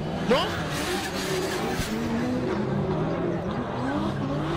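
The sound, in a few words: BMW 1 Series race car driving on track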